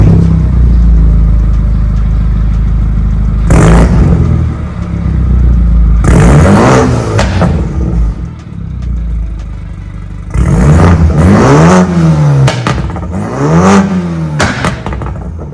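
A BMW 328i M-Sport with its muffler cut off revs hard in several loud bursts, its raw exhaust rising and falling in pitch between short idle gaps, close and with no talk.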